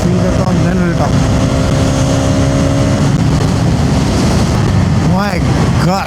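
A Hero Xtreme 250R, a 250cc naked motorcycle, being ridden at speed on the road: constant loud engine drone buried in heavy wind blast on the microphone, with a brief whine partway through.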